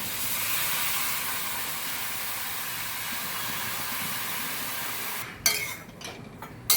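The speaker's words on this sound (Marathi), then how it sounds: "आपण आता ओले केलेले मुरमुरे त्यामध्ये टाकूया" Soaked puffed rice hits a hot pan with a steady, loud hiss and sizzle that holds for several seconds, then gives way to a few scraping stirs.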